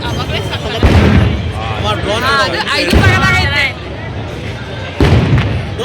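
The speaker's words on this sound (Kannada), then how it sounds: "ಇವತ್ತೇ ಫಸ್ಟ್ ಟೈಮ್ ಪಟಾಕಿ ಹೊಡೆದಿದ್ದನ್ನು ನೋಡಿದ್ದು" Firecrackers burst at the Siddaganga temple fair in Tumkur: three loud, separate booms spaced a couple of seconds apart over a noisy crowd, with people talking nearby.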